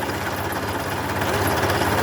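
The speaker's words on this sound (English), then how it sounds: "So you can see her spinning there now" A My Logic flail mower mulcher driven by a 13hp Honda engine runs at low revs, giving a steady close mechanical drone with a faint rhythmic rattle from the spinning rotor and no voices.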